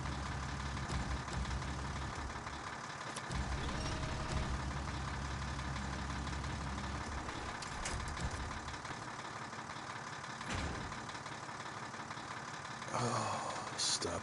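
A truck engine idles steadily in the SnowRunner off-road driving game, a continuous low rumble under occasional speech with a brief clunk near the end.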